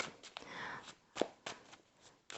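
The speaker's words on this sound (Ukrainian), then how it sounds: "І поки тасую колоду" A deck of playing cards being shuffled, heard as a series of soft, papery riffling bursts and taps of varying length, fairly close and alone without talk.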